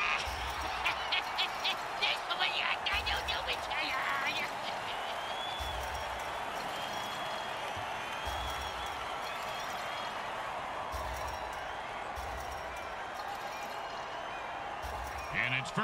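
A crowd in an American football video game cheers and applauds in a continuous distant roar under a commentator's voice, with a few thumping bursts early on.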